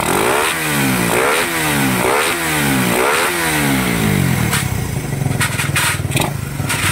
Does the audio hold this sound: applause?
no